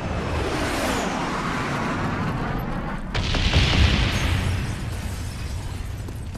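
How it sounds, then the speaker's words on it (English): A bomb strike hits in Call of Duty: Black Ops, where a steady rumbling bed swells into a deep, booming explosion midway and then slowly fades back to a low roar. "Bomb strike inbound."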